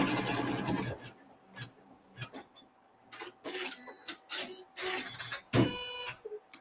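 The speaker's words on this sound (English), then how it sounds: "We're going to sew a tack down stitch to hold that fabric in place." An embroidery machine sews a tack-down stitch to hold fabric in place, giving irregular mechanical chattering and tapping bursts with short pauses between runs, fairly close and with no voices.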